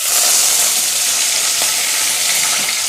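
Curry leaves sizzle loudly in hot oil, a dense crackling hiss close up with occasional pops and stirring, for a vangi bhath rice dish.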